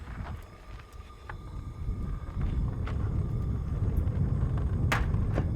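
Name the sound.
wind blowing flames of camp stove in desert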